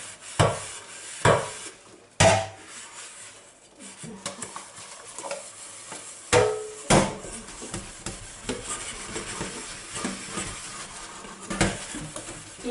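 An electric scrubber working over the inside of a dishwasher and a coffee maker, giving irregular scraping, clattering knocks against metal and plastic with a steady scrubbing hiss in between, close up and alone.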